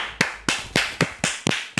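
Slow, deliberate hand claps, about seven sharp and close strikes spaced evenly with a brief ringing tail after each, heard alone without talk.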